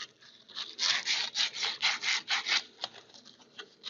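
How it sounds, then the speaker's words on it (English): Emery cloth rubbed back and forth on copper pipe before soldering a fitting, a rhythmic close scraping of about a dozen quick strokes that trails off into lighter rubs. "sand the pipe down where you're going to solder the fitting"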